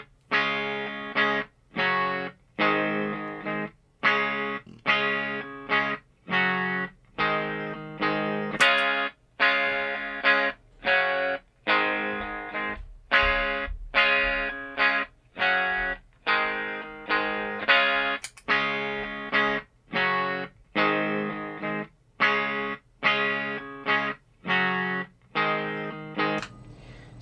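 Electric guitar played through a Fender Blues Jr. tube amp, chopped rhythmic chords with a driven, distorted tone, struck in steady repeated bursts with short gaps, loud and close with no talking.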